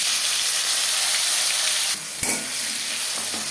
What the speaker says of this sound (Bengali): তেল গরম হয়ে গেছে দিয়ে দিলাম একটা তেজপাতা একটা পেঁয়াজ দুটো টমেটো